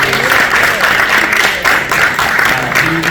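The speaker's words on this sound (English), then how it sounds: "Give Eric a nice big round of applause." A theatre audience applauds a lighting designer in a dense, continuous burst of clapping close and loud throughout, with crowd murmur underneath.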